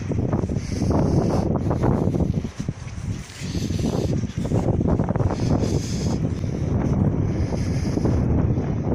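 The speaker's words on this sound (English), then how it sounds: "Always stormy wind." Strong stormy wind by the water, loud buffeting gusts rushing and surging unevenly, with a brief lull before the roar picks up again.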